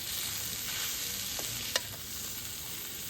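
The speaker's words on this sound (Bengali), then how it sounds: "হালকা একটু পেঁয়াজও আমি এর মধ্যে দিয়ে দিলাম দিয়ে এটাকে আমি সব কিছুর সঙ্গে মিশিয়ে নেব" Capsicum and onion frying on a hot tawa while being stirred, a steady close sizzle with a few short scraping strokes of the spatula, one sharper scrape standing out near the middle, no voices.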